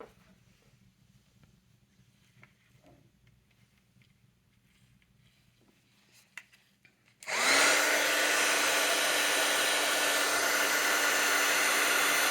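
A heat tool switches on partway through after near silence, then blows a loud, steady whirring roar to the end while heat-setting embossing powder in a mixed media craft project.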